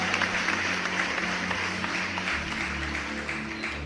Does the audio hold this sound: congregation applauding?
yes